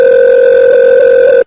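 A telephone ringback tone plays steadily as a phone call is placed, one loud continuous electronic tone that cuts off abruptly after about a second and a half.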